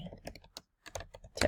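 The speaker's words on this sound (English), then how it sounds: "this we're going to type in gardening" Quick, irregular clatter of keys on a computer keyboard, close and fairly soft, a short burst of taps broken by a brief pause.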